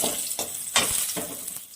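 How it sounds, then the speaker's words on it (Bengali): Whole cumin seeds and bay leaves sizzle steadily in leftover fish-frying oil, a close, continuous hiss broken by a few bursts of spattering as a utensil stirs the pan. "এখন আমি এখানে ওই মাছ ভাজার তেলটার মধ্যে গোটা জিরে ফোড়ন দিলাম,"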